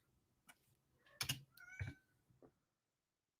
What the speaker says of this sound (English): Do you guys hear my cat outside?